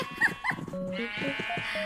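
Minecraft sheep bleat twice in quick succession, fairly close and clear, over quiet game background sounds and faint music notes.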